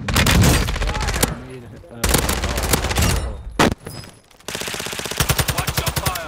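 Rapid bursts of automatic gunfire and single shots crack through a Warzone ranked match, loud and close, in several dense volleys separated by short pauses.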